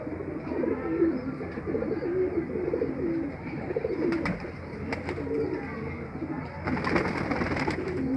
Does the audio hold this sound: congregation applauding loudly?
no